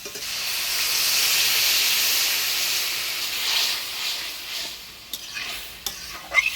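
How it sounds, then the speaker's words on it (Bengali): Water poured over fried mixed greens in a hot pan sets off a loud, rushing hiss that swells and then fades. Scattered stirring clicks and scrapes follow as the sizzle dies down. "এবার জল দিয়ে দিব"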